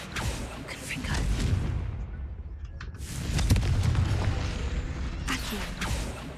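A Confringo fire spell bursts in Hogwarts Legacy, giving a rumbling, booming blast that swells and fades twice, with faint crackling between the surges.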